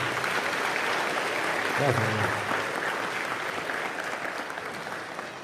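A church congregation applauds steadily and fairly loudly through the whole stretch, with one person speaking briefly over the clapping.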